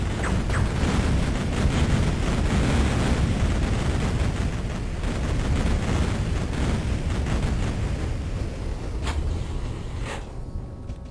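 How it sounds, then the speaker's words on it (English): Rumbling blasts and booming explosions from the Duke Nukem 3D Area 51 level, loud and continuous with dense low-end roar throughout, a couple of sharper cracks near the end. "More explosions."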